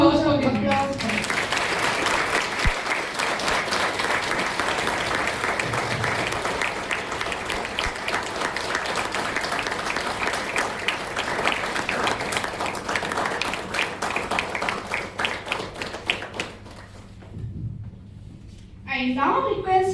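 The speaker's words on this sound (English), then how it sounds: "A big round of applause for him." An audience applauds to welcome a guest speaker at an academic felicitation event. Dense, steady clapping from a large crowd carries on for about sixteen seconds, then fades, with brief voices at the start and end.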